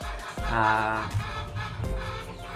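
A chicken clucks and crows nearby in a rural province, loud harmonic calls standing alone with some background noise.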